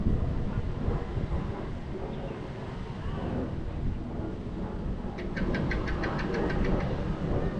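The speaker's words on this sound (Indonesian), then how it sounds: "Ini kondisi lumayan berangin, kencang banget, sedang sih, enggak kencang banget" Strong wind buffeting the microphone of a Mario Mini 25 FPV drone during a cinematic cruising flight, a constant roaring rumble mixed with the drone's motor whine, with a brief rapid ticking near the end.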